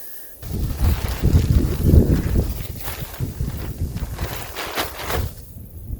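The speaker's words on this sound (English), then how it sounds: "A little bit breezy." Wind gusts across a snowy winter backpacking trail on the Colorado Trail, a steady broadband rush with buffeting surges against the microphone, fairly close and continuous, fading near the end.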